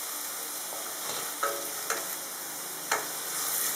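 Greens drop into a hot pan of cooked ginger garlic paste for mushroom biryani, a continuous sizzle with three or four sharp clinks of a stirring utensil against the pan.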